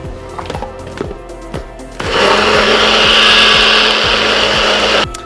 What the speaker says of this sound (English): And now we're gonna blend.